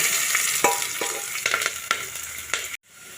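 Onions sizzling in hot tempering oil with chillies, scraping and stirring clinks, steady hiss, then a sudden cut to near silence at the end.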